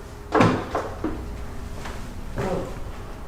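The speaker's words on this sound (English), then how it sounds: "Who the hell slammed our door?" A room door bangs shut in a hotel room, a sharp close thud followed by softer rattles, then a second knock a couple of seconds later, with no one speaking.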